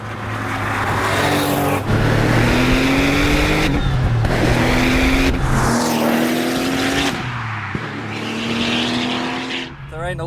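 A turbocharged RUF BTR2 sports car accelerates hard through several gears, its engine note rising loudly and repeatedly with abrupt shifts between pulls, close and dominant, with some talk over it.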